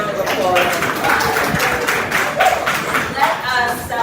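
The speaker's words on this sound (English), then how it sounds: "Give yourselves a round of applause." A crowd at a Kentucky gathering for Breonna applauding themselves, dense and sustained clapping with cheering voices woven through it.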